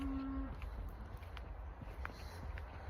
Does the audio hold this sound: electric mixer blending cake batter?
no